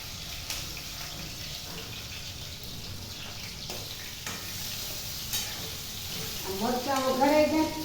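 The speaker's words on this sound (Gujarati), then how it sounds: "તેલ છે તો મરચાં વઘારીએ" Stuffed green chillies fry in hot oil, a low steady sizzle heard close by that swells louder near the end, as if fresh spluttering starts.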